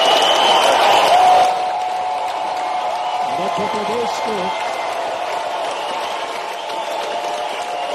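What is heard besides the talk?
audience applause at a ceremony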